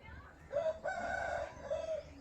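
A rooster raised for sale crows once near the microphone, with a rising opening note, a long sustained middle and a trailing end, over faint background farm noise.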